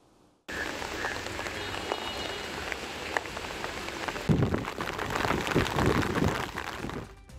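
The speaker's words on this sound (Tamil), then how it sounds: "நாட்டில் தொடர்ச்சியாக பெய்து வரும் மழை காரணமாக கொழும்பு உட்பட நாட்டின் பல பாகங்களிலும் வெள்ளம் ஏற்பட்டுள்ளது" Heavy rain pours steadily in Colombo, Sri Lanka, during flooding, a dense continuous hiss of drops on surfaces that begins abruptly and grows heavier with splashing patters in the latter half.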